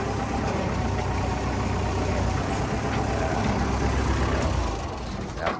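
A Kubota L4508 tractor, a 45-horsepower farm model with a rotary tiller on the back, runs its diesel engine at a steady high rev, a loud continuous drone that eases slightly near the end.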